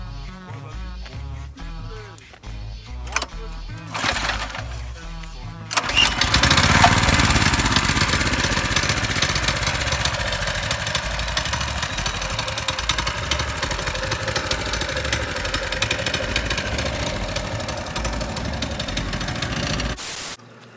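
A small engine, freshly tuned up and running well on a machine with wheels, starts up partway through and keeps a steady, loud mechanical chug to the end, after a quieter opening of background music.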